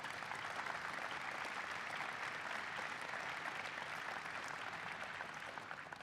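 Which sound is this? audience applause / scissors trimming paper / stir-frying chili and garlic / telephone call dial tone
audience applause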